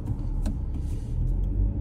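A Chery Tiggo 8 Pro Max driving on the road, a steady low engine and road rumble heard from inside the cabin, with no talk.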